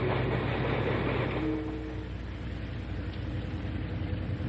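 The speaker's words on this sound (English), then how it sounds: "2 trains were chartered from the Santa Fe Railroad for the journey." Chartered Santa Fe Railroad train in motion, a continuous rumbling roll with steady clickety-clack, heard at moderate distance and with no talk.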